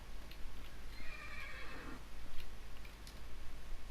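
In the video game Minecraft, a horse gives one wavering neigh near the middle, fairly close, over a soft background of faint clip-clop and ambient noise, with no talk.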